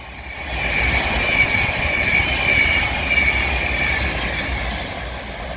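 Pendolino class 390 electric train on fast lines at Heaton Chapel on the West Coast Main Line, a loud broad roar with a thin whine on top, swelling and holding steady as it passes close by, with no talk.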